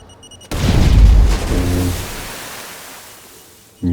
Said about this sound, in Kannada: ಇವಾಗ ಹಾಕಿ ಬ್ಲಾಸ್ಟ್ ಮಾಡೋಣ,